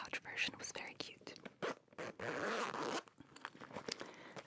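A zipper on a pencil pouch is drawn open in short pulls, close and soft, with whispered talk before and after.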